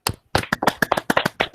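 Hand clapping from a small group of committee members at a medical faculty event, a quick run of sharp, irregular claps close by with a brief gap near the start.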